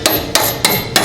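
A hammer taps on a car's lateral control arm toe adjustment bolt, driving it into place with four sharp metallic strikes in an even, quick rhythm, close and loud.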